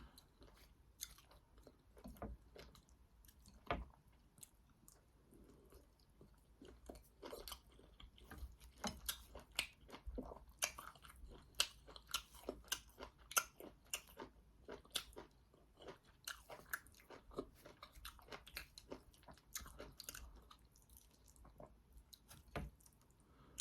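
Someone eats egusi soup with fufu, chewing close to the microphone with soft, wet, squishy bites. The chewing repeats steadily and picks up pace over time. It is quiet and stands alone, with no talking.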